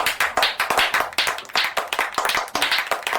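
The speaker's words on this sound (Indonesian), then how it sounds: "Tepuk tangan buat teman kalian" Students in a classroom applaud their classmates, a close, lively patter of many hands clapping steadily and loudly throughout, with no talk over it.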